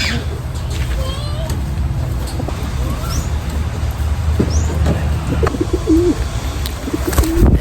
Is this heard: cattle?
no